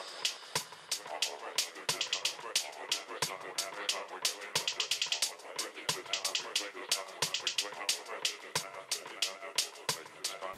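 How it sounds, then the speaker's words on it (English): Hi-hat loop from Splice in a Logic beat: a quiet, steady run of crisp ticking hits mixed under other beat elements, playing continuously throughout. "So I went on Splice and I found this different hi-hat loop that I really liked"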